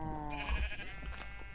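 Sheep in Minecraft giving a single short, wavering bleat, close and clear, with a low thump beneath it.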